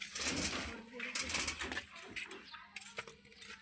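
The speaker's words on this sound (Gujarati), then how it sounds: "હવે અમે કબૂતર ખોલવાના છીએ" Caged pigeons coo softly amid rustling and shuffling, with someone speaking over them and bursts of brighter noise as the cage is handled.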